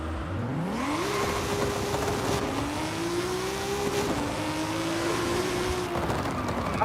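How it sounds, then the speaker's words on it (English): Engines of a Nissan GTR and a Toyota Supra racing in Forza Horizon 5, the rear-wheel-drive Supra on drag radials, revving hard as they accelerate through the gears in a steady, loud, continuous roar. "GTR versus Supra"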